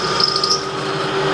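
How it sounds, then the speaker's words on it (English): Power drill with a drill bit boring through the metal locking bar of a folding shovel, giving a steady close whine with a high grinding edge for the whole stretch. "even though we could probably just ram this drill bit all the way through"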